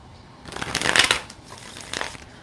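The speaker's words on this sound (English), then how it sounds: "Okay, that's shuffled up." A deck of cards shuffled during a live tarot reading, making two bursts of rapid riffling flutter, the first longer and louder, the second shorter and softer, heard close and without speech.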